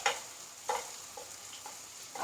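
Kerala-style egg roast masala sizzling in a pan as turmeric, chilli and Kashmiri chilli powders are stirred in, with soft scraping stirs and brief sizzle bursts at intervals, fairly quiet with no talk.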